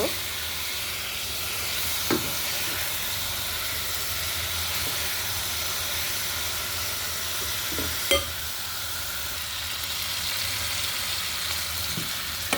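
Fish and tomato sizzle steadily in a pan for a Bengali fish curry, a continuous hiss broken by a few sharp clinks of stirring, at moderate loudness with no talking.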